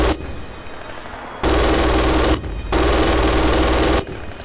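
MG 42 machine gun firing in the video game Red Orchestra 2: two long, loud, extremely rapid bursts, each about a second long and separated by a brief pause.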